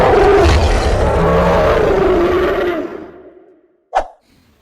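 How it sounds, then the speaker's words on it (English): A lion gives a loud, rumbling roar that swells and then trails off over about three seconds, followed by a short, sharp grunt after a brief pause. "This is lion."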